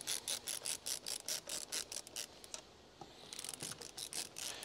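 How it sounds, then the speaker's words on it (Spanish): Bolts being screwed in by hand on a Vespa Polini 221 engine, a quick series of close, quiet ratcheting clicks in short bursts, a brief pause, then more clicking. "Ahora vamos a atornillar."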